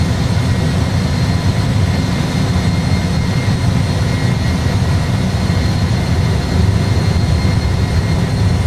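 Airliner jet engines at flex takeoff thrust, a loud continuous roar with heavy low rumble, steady throughout and heard from inside.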